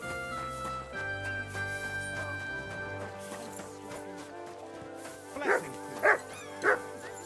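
A dog in Kingdom Come: Deliverance II gives three sharp barks near the end, set against a game soundscape with hoofbeats and ambient tones.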